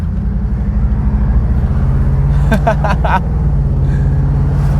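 A Pontiac Firebird, bought as a mystery auction car for $1,100 and just revived, idles and pulls away with a steady low engine rumble throughout, while brief bright chirps of excitement sound midway.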